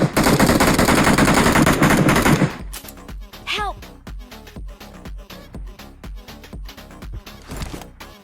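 Sniper rifle fire in BGMI PUBG Mobile, a dense burst of gunfire at first, then a series of sharp, separate shots with brief metallic ringing between them.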